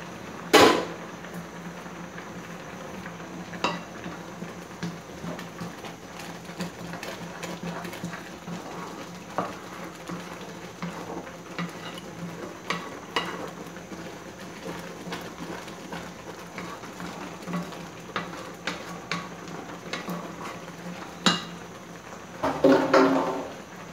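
A rawa and coconut laddoo mixture cooks in a pan, with a steady low sizzle and scattered light scrapes and taps of stirring, and a few louder clatters at the start and end.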